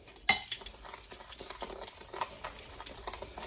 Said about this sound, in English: Let's stir this up.